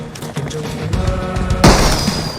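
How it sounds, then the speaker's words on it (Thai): Gunfire rings out in PUBG Mobile during an in-game concert mode, a few sharp booming shots over background music, ending with a loud close blast and crash. "นี่ยิงปืนใส่เลย"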